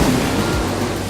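Waves on the Hudson River in The Crew 2 video game, a brief, loud, continuous wash of water and surf noise with a windy rush throughout.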